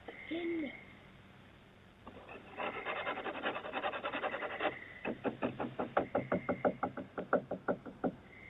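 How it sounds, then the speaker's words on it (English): A faint rubbing, scratching rasp is followed by a run of about a dozen evenly spaced knocks on wood, rapping in a steady rhythm in an otherwise quiet room. "Some scratching and knocking sounds can be heard"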